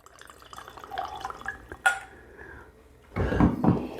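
WhistlePig whiskey poured neat into a glass: faint trickling and small clinks, then a louder, fuller splash of liquid near the end, close by.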